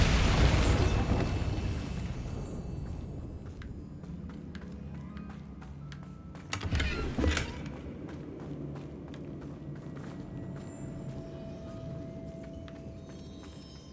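Bombarda spell explosion in the Hogwarts Legacy video game, a loud blast at the start that decays into rumbling debris, followed by a second burst midway and a rapid series of clicking and rattling impacts.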